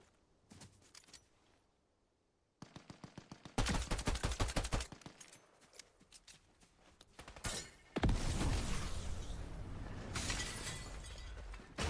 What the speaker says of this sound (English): took the time on my shotgun shot there